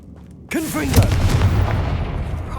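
A Confringo fire spell in the Hogwarts Legacy video game erupts in one sudden, loud blast with a whooshing, swirling burst, then rolls into a rumbling, crackling tail that slowly fades.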